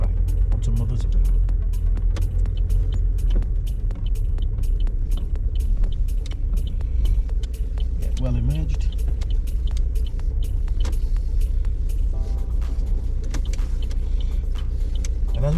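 A car pulls out of a car park exit on a Wakefield driving test route, its engine giving a steady low rumble from inside the cabin under continuous talk, with small clicks and knocks scattered throughout.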